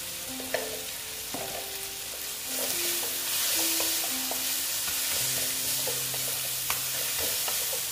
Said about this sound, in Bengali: দেখো ভালো মতন কষিয়ে নিচ্ছি।